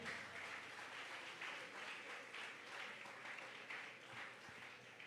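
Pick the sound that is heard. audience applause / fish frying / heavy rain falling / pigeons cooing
audience applause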